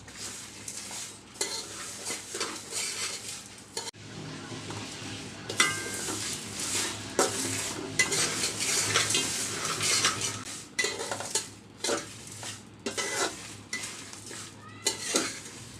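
Shahi masala spices dry-roast in a pan over low heat. A spoon or spatula scrapes and stirs in irregular bursts, with metal clinks, soft rattling of whole spices and a faint sizzle.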